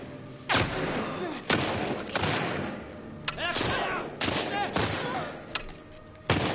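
Repeated gunfire in The Last of Us Part II, several loud, sharp shots spaced irregularly over a steady game backdrop, with a few echoing bursts.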